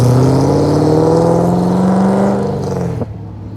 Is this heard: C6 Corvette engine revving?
yes